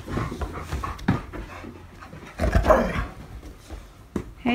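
Dogs pant heavily after a twelve-minute high-intensity cardio run, close up, with rapid rhythmic breathing, occasional snuffles and a small whimper, fairly quiet and without talk.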